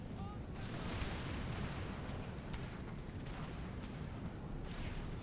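Canister artillery fire in the Empire Total War 13 Colonies campaign, a sustained loud rumbling barrage of booms and blasts rolling on without break, with a voice talking over it.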